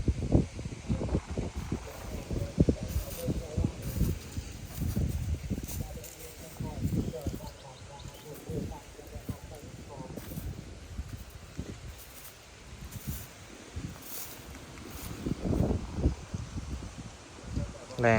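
Strong wind gusts buffet the microphone in an open farm field where a crop is being planted, giving a loud, rumbling low roar in uneven bursts, with people talking over it.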